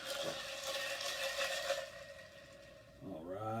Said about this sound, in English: Got to stir this dude up,